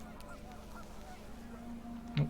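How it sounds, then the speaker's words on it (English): Panicked geese in What Remains of Edith Finch honk in a few short calls against a steady wind-like hum, ending with one loud, sharp honk close by. "Wind picked up and panicked geese appeared and quickly went."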